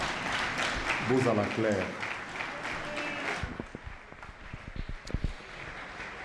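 Conference audience applauding after a speech at an event on sexual harassment in the media, steady clapping with speech over it at first, then thinning into scattered individual claps.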